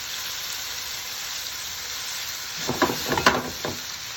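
Venison stir fry sizzles in a hot pan, a steady close hiss of frying meat that turns into a few louder crackling bursts and spits near the end, with no talking.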